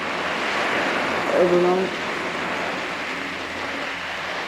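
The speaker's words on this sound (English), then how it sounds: "This is a storm front that's coming through." Steady roar of strong wind and choppy waves around a boat at anchor as a storm front moves through, broad and constant with gusty swells; a voice speaks briefly over it.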